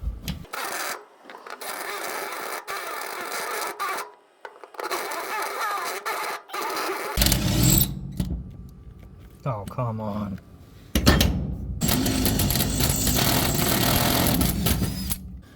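An electric drill whirs in several loud bursts separated by short pauses while installing a winch on a flatbed truck, with a voice speaking briefly between them.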